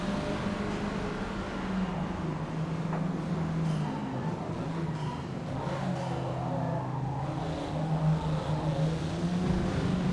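A Hyundai Veloster Turbo races around Laguna Seca in Forza Motorsport, its engine droning and shifting pitch continuously at steady loudness, with tyre and wind noise blended in and no talking.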